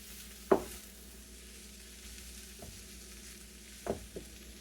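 Onions and cabbage frying in a pan for Hungarian cabbage noodles, a soft steady sizzle with a few sharp clatters of stirring or flipping, near and moderately quiet, with no talking.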